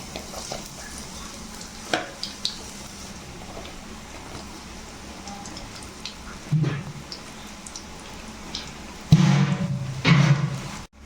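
Chopped jackfruit seeds tipped into hot coconut oil, giving a faint, steady sizzle with light stirring scrapes and a few soft thuds, plus a louder burst of frying near the end.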